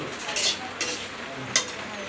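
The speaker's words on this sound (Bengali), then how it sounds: "এই যে পরোটা ভাজা শুরু করে দিয়েছি" Paratha frying in a pan, a close, steady sizzle broken by a few brief scrapes and clinks of a utensil.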